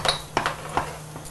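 Cardamom powder tipped by the spoonful into a pan of halwa gives a few faint metallic clinks and taps, three or four brief knocks spaced over a second or so, with no talk.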